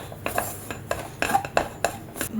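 A spoon scrapes and taps around a bowl in quick, uneven strokes, mixing a thick spice paste with water up close.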